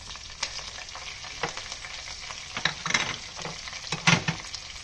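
Mustard seeds, cumin, dried chillies and curry leaves crackle in hot oil for a tempering, a steady close sizzle broken by sharper popping bursts and stirring scrapes.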